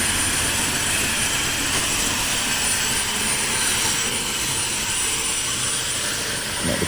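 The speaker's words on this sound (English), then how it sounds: "the helicopter started to warm up" A helicopter engine warms up before a flight, a loud, steady turbine whine and roar that holds constant, close by, with no talking.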